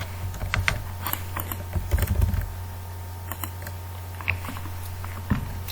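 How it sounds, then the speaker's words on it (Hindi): Clicky keystrokes tapped in irregular bursts on a computer keyboard, close and distinct over a faint steady electrical hum. "कोई भी रैंडम डाटा मैं लिखता हूँ अभी फिलहाल"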